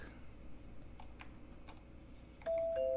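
Doorbell in a horror video game, a faint ticking room tone that ends in a bright sustained chime tone near the end, heard alone without talk.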